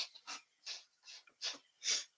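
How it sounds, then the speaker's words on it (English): Several short, breathy nasal bursts of someone blowing their nose, about six separate puffs spaced irregularly over two seconds, fairly quiet and close with no talking. "had to blow my nose there a little bit"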